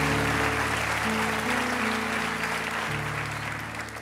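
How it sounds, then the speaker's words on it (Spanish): Applause from a church congregation during a Christian sermon, a steady dense wash of clapping across the whole stretch with a sustained musical tone underneath, gradually thinning toward the end. "De un aplauso de verdad si lo cree."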